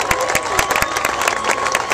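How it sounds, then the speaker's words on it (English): A county fair crowd applauds the newly introduced Miss Calaveras and her court, with steady, dense clapping and scattered cheers that hold for the whole stretch. "Give a big round of applause."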